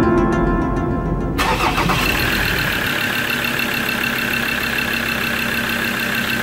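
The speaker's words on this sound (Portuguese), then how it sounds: "vamos dar aquela partida pra gente escutar o motor" A Ford Ranger 3.2 pickup's starter cranks in rapid pulses for about a second, then the engine catches and settles into a loud, steady idle close by.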